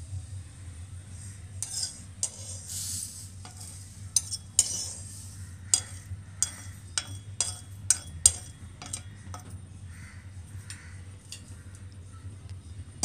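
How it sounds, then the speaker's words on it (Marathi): Roasted golden sesame seeds being scraped from a kadai onto a plate while making tilgul ladoo, heard as a series of sharp metallic spoon clinks and scrapes over a low steady hum, with no talking. "हे आता मी प्लेटमध्ये काढून घेते"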